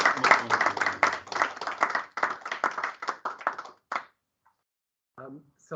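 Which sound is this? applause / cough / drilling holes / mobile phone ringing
applause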